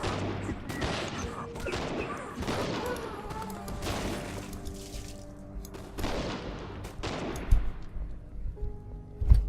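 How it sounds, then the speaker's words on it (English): Cannonball fire in the action RPG video game The Incredible Adventures of Van Helsing, with repeated heavy booming blasts and crashing impacts amid battle effects and music, growing louder toward the end. "Oh god, somebody's launching cannonballs at me."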